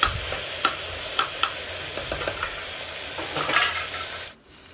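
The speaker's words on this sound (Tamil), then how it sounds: "இப்போ தக்காளி வதங்கிச்சு" Tomatoes sautéing in a pan while snake gourd kootu is being made: a steady, close sizzle broken by soft scraping strokes of a stirring spoon, then a sudden stop.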